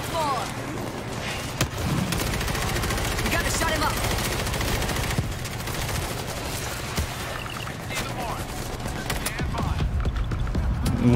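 Gunfire in the World War Z: Aftermath video game, with rapid automatic bursts and repeated shots running continuously and loudly, while players talk over the shooting.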